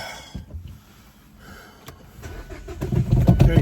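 A car engine cranks and catches, then settles into a rising, rumbling idle as it begins to warm up, close and fairly loud.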